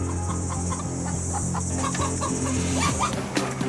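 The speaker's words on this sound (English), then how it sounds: "Meanwhile, the chicken has done a runner I know where it's gone." A loose chicken clucks in short, repeated calls over a steady low background hum, heard from close range and continuing throughout.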